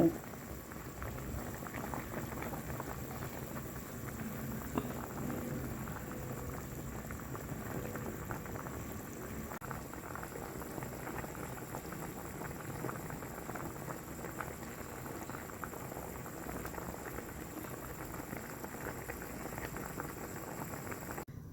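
A pot of salted pork bone soup on the boil, with a steady, dense bubbling and rolling simmer that carries on evenly throughout.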